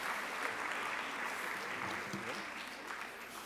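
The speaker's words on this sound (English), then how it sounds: "So give her a round of applause, along with our board members." An audience claps at a school spring band concert, a dense, even wash of applause at moderate distance that holds steady for a few seconds before easing slightly, with a faint voice beneath.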